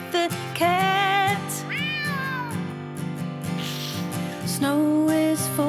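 A cat meows in a song about snow, its drawn-out, wavering cries rising and falling over steady musical backing, several calls in a row, close and loud.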